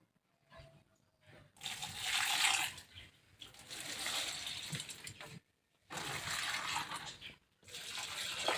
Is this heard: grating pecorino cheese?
no